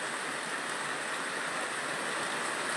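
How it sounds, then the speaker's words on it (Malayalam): Heavy rain pours steadily in Neyyattinkara, Thiruvananthapuram, a dense, even hiss of falling water with no pauses, close and loud throughout. "നല്ല മഴയാണ് ഇപ്പോൾ പെയ്യുന്നതെന്ന് നമുക്ക് മനസ്സിലാക്കാം"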